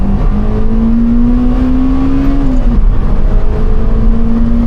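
A Honda Civic Type R EP3 engine holds a loud, high-revving drone that climbs slowly toward 8,500 rpm, drops sharply at a shift, then settles back into a steady roar.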